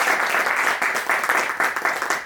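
A crowd claps enthusiastically at a motivational business event, dense applause with rhythmic bursts, steady and fairly loud throughout.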